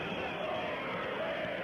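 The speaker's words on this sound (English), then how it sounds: "Overrated is what they're cheering." Basketball crowd at a 1997 Mitchell vs Watertown game chanting "overrated" in the closing minute, a dense, steady roar of many voices filling the gym with no break.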